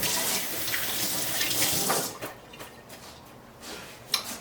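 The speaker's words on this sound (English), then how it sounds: "Let me rinse my hands off." Hands being rinsed under a running kitchen tap while cooking a Mediterranean dish: a steady, close splashing stream for about two seconds, then softer intermittent splashes and a small clink as the water slows.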